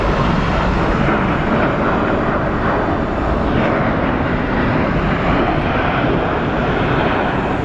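An inbound Airbus airliner at Sky Harbor Airport gives a loud, steady broadband jet roar that fills the whole stretch without letting up, close and with no voices.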